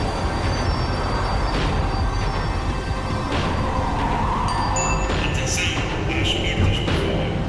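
A tram in the video game Max Payne 3 slows down, giving a steady rumble of rolling wheels on rails with high metallic squeals toward the end of the run.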